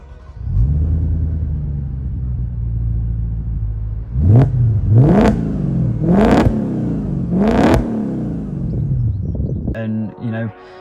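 Audi S4 B6 with its 90-degree V8 idles with a deep burble, then revs up sharply four times in a loud, close series of throttle blips before dropping back, with talk starting at the end.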